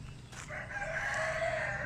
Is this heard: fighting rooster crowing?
yes